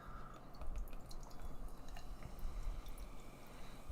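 Sour IPA beer is poured into a glass, making soft, close, bubbly fizzing and trickling with small splashes and drips that continue throughout.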